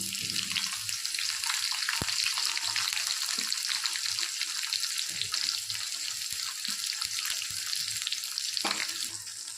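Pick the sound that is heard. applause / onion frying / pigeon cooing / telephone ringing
onion frying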